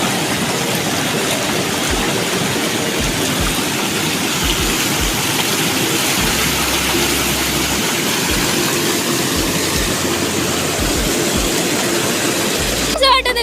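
Heavy water rushing over the Sindphana dam, a loud, steady broadband roar that fills the whole stretch, with low wind-like rumble beneath and no speech.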